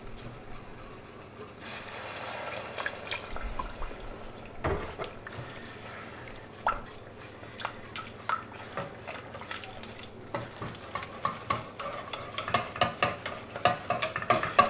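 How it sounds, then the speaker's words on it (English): Milk being whisked into a butter and flour roux for a soufflé's white sauce, quick scraping whisk strokes against the pan that grow faster and louder toward the end over a low background hum. "Time to start adding the milk. Whisk as you're adding."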